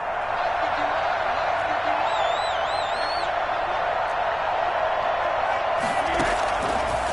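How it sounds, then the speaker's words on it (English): A large American football stadium crowd roars steadily throughout a two-point conversion attempt, loud and sustained, with a few whistles rising above and an announcer's voice talking over the din. "Listen to this crowd now."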